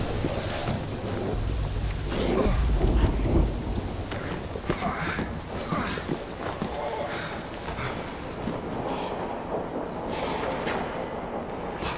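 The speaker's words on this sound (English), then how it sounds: "Storm." Thunderstorm in the game Deadlight, set in Seattle, with a loud rumble of thunder early on over steady, dense rainfall that continues throughout, alone without voices.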